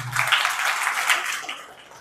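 Applause from a school audience at a girls' high school, a dense steady patter of many hands clapping for a student, fairly close and holding for about two seconds before easing slightly.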